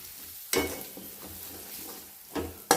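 Spices with chilli, turmeric, mutton masala and red chilli powder roast in oil in a pan over a low flame, with a few sharp stirring scrapes over a soft steady sizzle.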